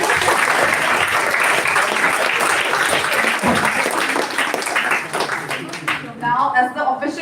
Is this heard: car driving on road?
no